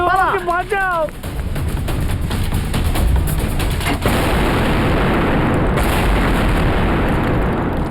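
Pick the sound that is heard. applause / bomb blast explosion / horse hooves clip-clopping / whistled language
bomb blast explosion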